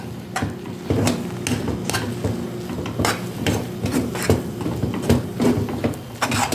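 A spoon stirs thick coxinha dough in a pan, repeated scraping and rubbing strokes in an even rhythm, close and moderately loud with a faint sizzle beneath.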